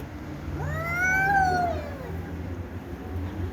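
A street cat in a neighborhood lets out a drawn-out rising and falling howl, a single loud wavering meow near the listener over low background hum.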